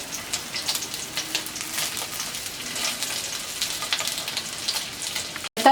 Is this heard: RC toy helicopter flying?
no